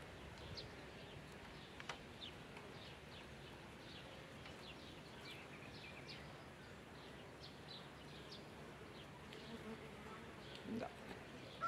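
Honeybees buzz steadily around a hive during a swarm check in late May, with a dense, soft drone and a few passing close-up hums, plus occasional faint bird chirps.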